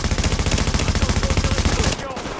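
Continuous rapid automatic gunfire in The Division video game, a dense rattling burst of loud shots that cuts off abruptly near the end, with talk faintly underneath.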